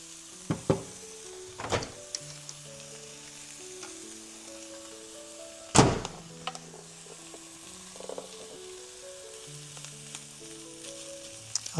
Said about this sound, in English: It's time for us to add our sausage in.